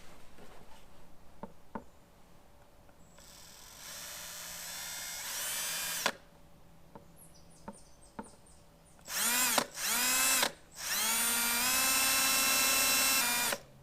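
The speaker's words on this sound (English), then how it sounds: "Why is plastic being very difficult to drill through right now?" A power drill boring through plastic while installing Sea-Doo knee pads whirs in several bursts, short stops and starts then longer high-pitched runs, close and loud, with light clicks between.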